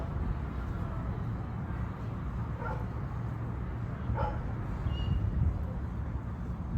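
A dog gives a couple of faint, distant barks in an outdoor residential neighborhood in Edgewater, Miami, isolated yelps over a steady background of street and city ambience.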